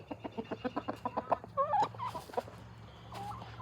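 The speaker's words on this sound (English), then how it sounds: "pretty much my grandma's chickens" Backyard hens, including a calm yellow-and-white one, give a quick run of rhythmic clucks followed by a few higher squawking calls, close and clear with no talk over them.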